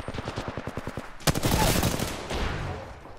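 Automatic gunfire from the shooter game Apex Legends rattles in a fast, even burst of about a dozen shots, followed by a louder blast and a rumbling tail of further firing.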